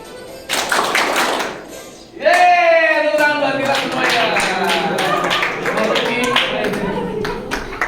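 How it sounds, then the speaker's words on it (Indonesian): A small group claps hands in a workshop session, irregular claps and taps mixed with lively cheering and voices over them. "Yeay, tepuk tangan buat kita semuanya."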